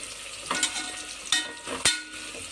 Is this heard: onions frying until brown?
yes